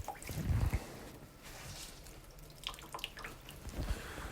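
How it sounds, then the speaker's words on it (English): Grated potatoes for hash browns squeezed by hand to wring out moisture, giving wet squishing and dripping bursts near the start and end with quieter trickling between, close up and without speech. "squeeze out the moisture, like this."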